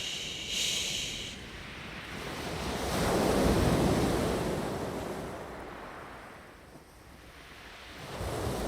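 Little waves wash onto a pebble shoreline at the seaside, swelling and receding in soft hushing surges with some wind noise against the microphone and no talking.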